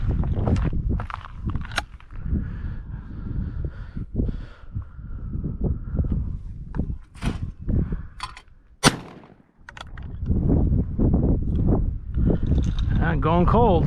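A 24 gauge shotgun firing reloaded shells at clay pigeons outdoors gives several sharp, loud shots spread between people talking and footsteps.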